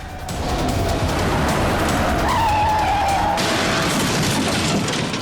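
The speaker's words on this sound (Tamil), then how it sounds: "எவனோ குடிச்சு வண்டி மோதிட்டான்னு நினைக்கிறேன்டா." A car skidding in a crash caused by a drunk driver, a loud sustained rush of road noise with a drawn-out tire squeal in the middle, close and continuous with no talking.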